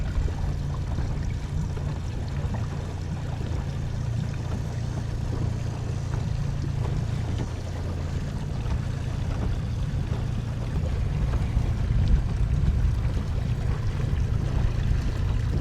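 A steady inboard-outboard motorboat engine on a bay in Destin, Florida drones continuously with water wash, a low rumble that holds evenly throughout without pause.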